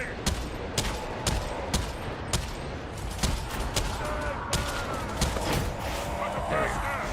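Gunfire in the video game Havoc: a string of sharp, loud shots in irregular bursts, some in quick doubles, over a constant background of game noise.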